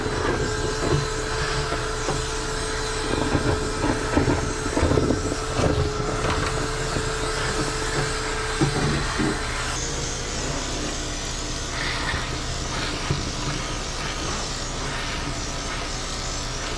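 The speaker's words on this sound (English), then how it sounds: "Turn it all the way up just for a second and vacuum this up." A vacuum cleaner roars at full power while grooming a dog's matted, felted coat, a loud continuous whine with rumbling and shifting pitch as the nozzle moves through the fur.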